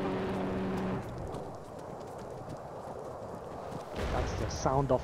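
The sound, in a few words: 3-pound TNT charge exploding at a Chinook in a video game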